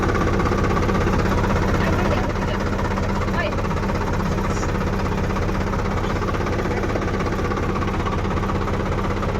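A village tractor engine runs steadily close by, a loud, dense, throbbing low rumble with a rattling vibration that holds unbroken throughout.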